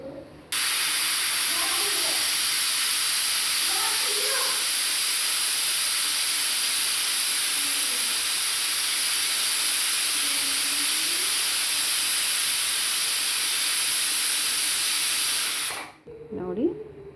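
A pressure cooker whistling while pulao cooks, one long, loud, steady hiss of escaping steam that holds for about fifteen seconds and then cuts off abruptly, leaving near silence with a faint voice at the end.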